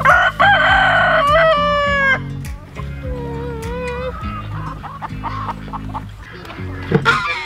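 A rooster crows loudly and close by, its long drawn-out call rising and falling, followed by softer clucks and other fowl noises from a chicken yard.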